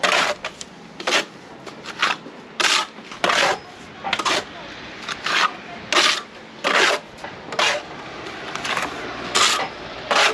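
Trowel pressing a render scratch coat tight against a metal bead on a wall, a series of short scraping, rasping strokes in an irregular rhythm, close up, with no speech.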